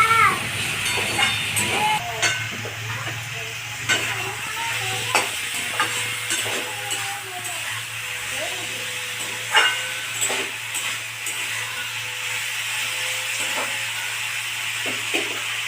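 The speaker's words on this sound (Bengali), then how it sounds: "সব দেওয়া হয়ে গেছে, আমি এখন কষবো।" Fish with onion stalks, chilli powder and garlic paste sautés in a pan, a steady sizzle and hiss broken by repeated scraping stirs and knocks of the spatula, fairly close and sustained throughout.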